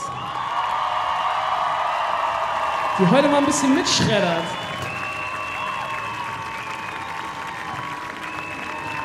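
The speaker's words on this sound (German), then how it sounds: "Also haut mal einen großen Applaus" Concert crowd applause at a live show in a festival setting, a broad continuous wash of clapping with a brief burst of cheering and whoops, while someone talks over it into a microphone.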